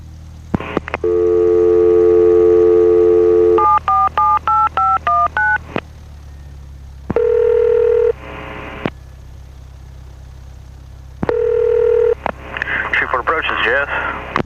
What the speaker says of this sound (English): we key the mic 4 times and it'll trigger a dial tone